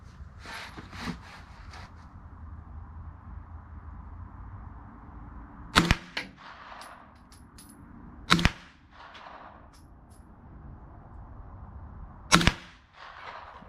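A B&T SMG M9 fires through a short suppressor with a sealed, no-flow end cap, producing three sharp, loud cracks spaced a few seconds apart over a low outdoor rumble, with faint rustling in between.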